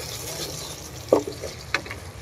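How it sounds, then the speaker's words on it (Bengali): Potatoes and lentils sautéing in a pan for khichuri, a steady soft sizzle with a couple of short stirring scrapes and clinks near the end, no one speaking. "আগে এটা কষায় নেব, কারণ এই যে আলু দিছি, ডাউল আছে তো এই কাঁচা যে ভাবটা যাতে চলে যায়।"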